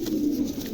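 A pair of milky-coloured Capuchine pigeons coo close by in a low, steady, continuous murmur with no talking over it.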